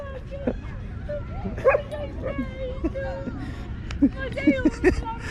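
Dogs in the Villa Borghese gardens in Rome give several short barks and yips scattered through the stretch, fairly close, amid outdoor crowd babble and people talking.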